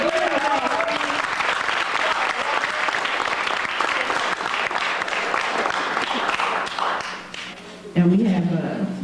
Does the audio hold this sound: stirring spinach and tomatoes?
no